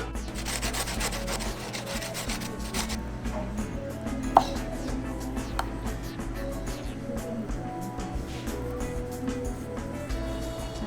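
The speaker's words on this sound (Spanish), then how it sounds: "Vamos a rallar ahora media zanahoria" Half a carrot is rubbed against a grater in a steady, continuous scraping rasp that carries on for several seconds with no talking, prepared for a Colombian shrimp stew.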